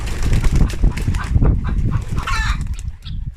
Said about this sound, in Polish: O, tu kurka gdacze